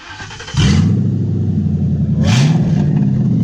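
A police mobile command post vehicle's engine cranks and catches at close range, settles into a loud rumbling idle, then revs once before settling again.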